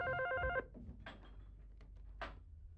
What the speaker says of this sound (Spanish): ¿El teléfono puedo atender?